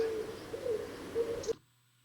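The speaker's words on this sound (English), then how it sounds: "this is the sound it makes. Almost like that hoot, like the classic sound you would think of for an owl." Little owl calling, a few soft low hoots repeated over about a second and a half against faint background hiss, ending abruptly.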